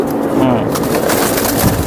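Giribaz racing pigeons coo at a loft, with low, throaty cooing close by under steady loud background noise.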